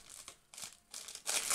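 Paper wrapping around a soap bar, an advent calendar gift, crackles and tears in three or four short close bursts by hand, the last one loudest and longest, with no voices.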